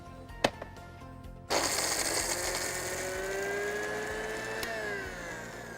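A mixer grinder switches on after a couple of clicks and grinds almonds with soaked poppy seeds into a paste, a loud continuous whirring drone that holds steady for several seconds.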